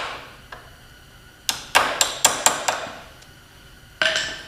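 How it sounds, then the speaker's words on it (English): A small hammer taps a pin into a dirt bike footpeg, a run of five sharp metallic clinks in quick rhythm, close and loud, followed by a lone strike after a pause. "You may even want to use just a little hammer to kind of help tap it."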